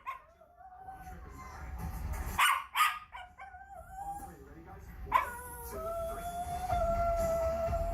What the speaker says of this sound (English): That is definitely some doggo.